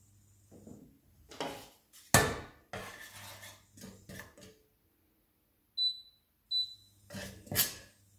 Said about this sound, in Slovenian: V posodo damo brez maščobe in brez vode, to pomeni suho pražimo koruzno moko.